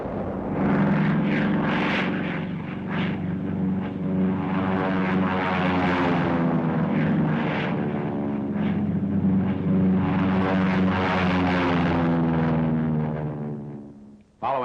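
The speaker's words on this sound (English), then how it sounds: "The attack is spearheaded by dive-bombing American P-47s." World War II American P-47 fighter planes roar loud and continuous as they dive-bomb dug-in fortifications, the propeller engine drone swelling and shifting in pitch before cutting off abruptly near the end.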